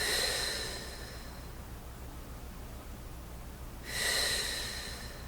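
Two deep breaths during a stretch, one at the start and another near the end, each a soft airy exhale against a quiet background.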